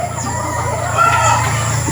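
Hens cluck close by on a farm where many chickens are kept tethered, a brief burst of fowl calls over a steady background hum.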